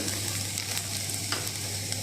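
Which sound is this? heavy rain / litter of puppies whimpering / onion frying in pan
onion frying in pan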